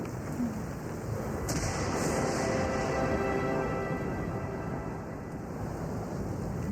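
A furious storm with wind and rain, a steady broadband roar of gusting wind and heavy rain that fills the scene throughout, with no speech.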